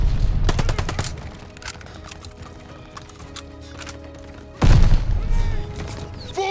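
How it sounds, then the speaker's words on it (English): Machine gun fire from a half-track in Call of Duty Vanguard, rapid bursts in a war-game battle, strongest at the start and again near the end, mixed with scattered combat noise. "Suppress the half-track MG!"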